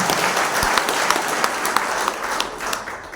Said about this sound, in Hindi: एक बार तालियां बजा के बताएं कि तारीफ करते हैं।